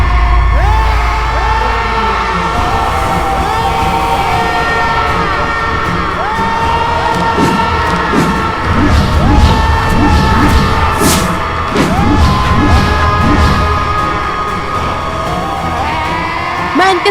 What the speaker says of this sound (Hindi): इनकी चीखों के सामने मेरी सुध खो रही है।